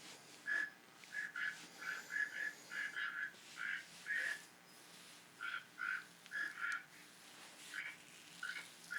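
A pet toucan calls from a video played back through a speaker, giving faint, repeated croaking notes in uneven rhythmic bursts over a quiet background.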